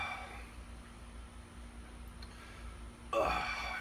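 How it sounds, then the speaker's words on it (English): A single loud, close burp erupts near the end after quiet, from a man drinking a 40 oz King Cobra malt liquor. "I think I got one more burp."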